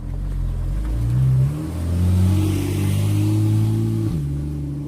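A Porsche drives by with a throaty engine note climbing and falling through gear changes, loud and fairly close, fading slightly at the end; no talk.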